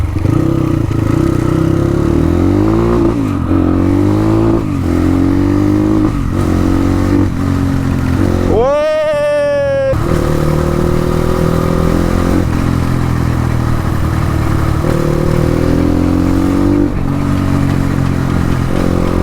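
A Suzuki RM250 two-stroke motorcycle ridden along, its engine loud and close throughout with rising and falling revs and one sharp high rev burst midway, no voices.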